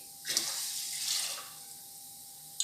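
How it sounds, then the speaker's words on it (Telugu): Water is poured into a cooking pot while sangati is being made, five glasses of water going in for each glass of flour. It sounds as two bright splashing pours, the second longer, followed by a short clink at the end. "ఒక గ్లాసుకి 5 గ్లాసులు వేసుకున్నాం వాటర్"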